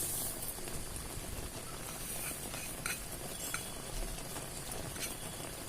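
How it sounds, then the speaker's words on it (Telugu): Sesame seeds being stirred in a frying pan while making a Kerala-style atukulu (flattened rice) sweet, a steady close scrape and rustle of seeds and spoon over a soft sizzle, with a few sharper clinks. "ఇప్పుడు నువ్వులు వేస్తున్నానండి."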